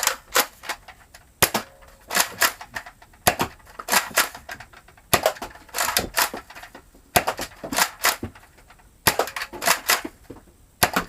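X-Shot Chaos Meteor toy foam blaster firing in quick bursts of sharp, snappy pops, clustered in groups of two to four with short pauses between, close and loud with no talking.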